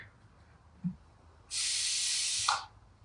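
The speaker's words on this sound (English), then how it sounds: "So I'm just spraying water in some of these that needed some more moisture." A steady, sharp hiss of a spray bottle misting water onto potted plants, about one second long, followed by a small click; quiet room otherwise.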